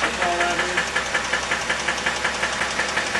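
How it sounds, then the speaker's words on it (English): Engine knocking from a 2000 Dodge Intrepid with a 2.7-liter engine running at idle, a steady rapid metallic ticking over the engine hum, heard close up. "This is the 2000 Intrepid with the engine running. We fired it up. You can hear the knocking."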